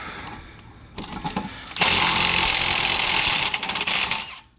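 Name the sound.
Milwaukee power tool loosening a 19 mm bolt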